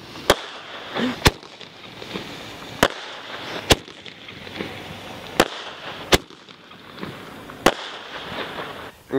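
Sharp fireworks bangs go off one after another at a skate park at irregular intervals, each a loud crack over a low background rumble.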